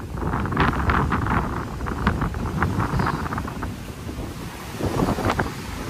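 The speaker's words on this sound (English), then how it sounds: "I hear that wind." Strong wind buffets the microphone on a Caribbean beach at a St. Lucia resort, a steady, loud roar with gusty swells and faint surf underneath, and no one speaking.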